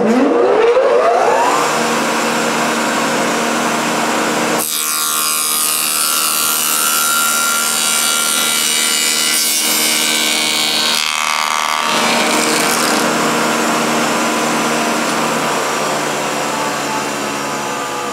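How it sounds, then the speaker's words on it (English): Shaper or spindle moulder cutting short tenons in wood, a loud continuous machine whine and rough cutting roar that shifts in tone as the workpiece passes the cutter, with no talking. "So let's take a look at this option in action"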